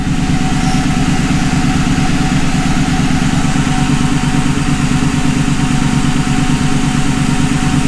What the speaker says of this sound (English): Go ahead and push the clutch in and put it in first, and then just let it out slow.